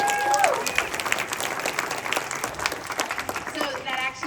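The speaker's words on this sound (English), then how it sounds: "Give Holly a big round of applause." Participants at a leadership training session give a round of applause, crowd clapping mixed with voices talking and a few tonal whoops over the top.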